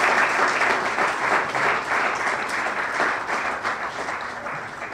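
A crowd applauds steadily at a medical school graduation ceremony, a dense wash of clapping that stays loud and even throughout, with no talking.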